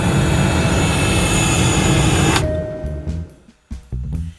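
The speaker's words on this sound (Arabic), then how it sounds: "نحن على وشك الهبوط، يرجى ربط أحزمة الأمان" An animated airliner comes in to land with a loud, steady engine roar that cuts off abruptly after a couple of seconds, followed by quieter, scattered clunks and rumbles.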